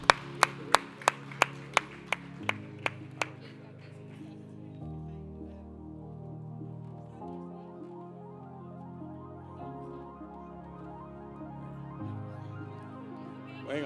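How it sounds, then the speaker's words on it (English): A live crowd gives a round of applause: a burst of loud, sharp hand claps in a quick regular rhythm over the first few seconds, then softer, sustained clapping and crowd noise carrying on underneath to the end. "Venga, un aplauso fuerte, a big applause to the young people."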